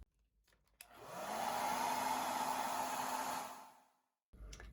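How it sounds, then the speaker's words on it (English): A hair dryer roars steadily for about three seconds while drying a watercolor painting, then winds down, falls briefly silent, and starts blowing again. "Let's go grab that hair dryer before everything moves around"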